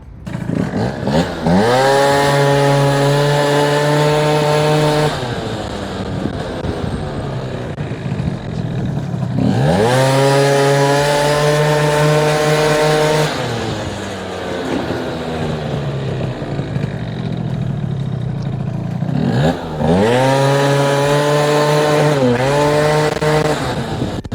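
A scooter fitted with a 102 carburettor jet rides around a car park, its small engine revving up in three long sweeping bursts, loud and near, easing off between runs.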